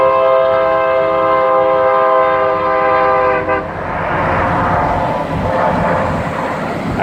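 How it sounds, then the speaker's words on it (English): A train passes nearby, starting with a loud, sustained horn blast that cuts off partway through and gives way to a heavy rumbling roar of rolling cars. "This is the train coming by."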